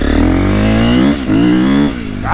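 Custom-built KTM 350XCF dirt bike engine revving loudly and close, a steady high-pitched roar that dips briefly twice before climbing again, with no voices.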